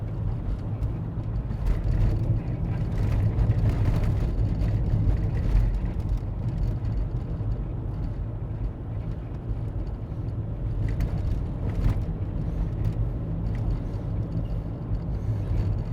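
A car drives through Las Vegas streets, near Fremont Street, in December, with a steady low engine and road rumble and no talk.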